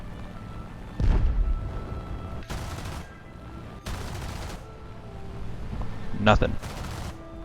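Bursts of 20mm aircraft cannon fire from a propeller fighter chasing a Focke-Wulf in War Thunder, several short broadband volleys spread across the clip over steady engine drone, loud and close.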